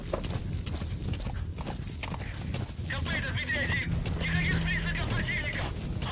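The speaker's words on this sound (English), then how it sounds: "The horse doesn't want to go over." Horse hooves clopping at a steady walking rhythm in the Metal Gear video game, close and moderately loud, with someone talking over parts of it and game sounds behind.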